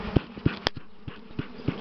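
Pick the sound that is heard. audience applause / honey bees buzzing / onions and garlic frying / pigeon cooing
honey bees buzzing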